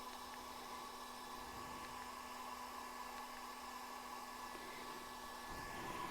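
A Creality Ender 5 Plus 3D printer switched on, its fan giving a quiet, steady whirring hum with a faint electrical whine that runs unchanged throughout.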